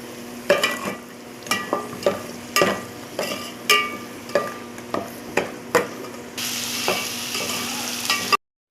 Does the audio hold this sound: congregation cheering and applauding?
no